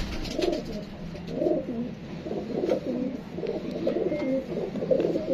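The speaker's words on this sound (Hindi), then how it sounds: "ये देखें जी दोस्तों उड़ेडा कबूतर" Pigeons coo in repeated soft, throaty rolling phrases, several birds close by and continuous over light background noise.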